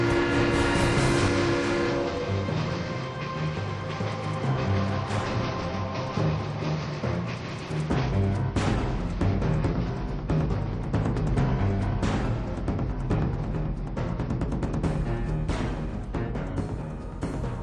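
A train rumbles and clatters steadily, with a tonal horn-like sound at the start giving way to rhythmic rattling and clanks for the rest.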